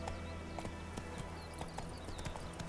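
Roach, the horse in The Witcher 3 video game, clip-clops along in a steady rhythm of hoofbeats, close and clear over a constant low ambient bed with no talk.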